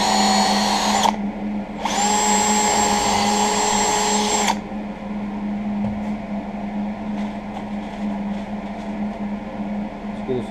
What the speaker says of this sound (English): let's step up to an 1/8 inch drill bit for the pilot hole